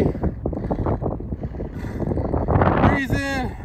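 Steady wind buffets and rumbles against the microphone on a high, cold lookout while people talk, with a few high whistling tones near the end.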